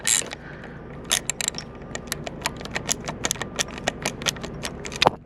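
A socket wrench loosens a bolt on a 2018-2023 Harley-Davidson Street Bob during a primary oil change, giving a run of quick, close ratcheting clicks in an irregular rhythm over a quiet background.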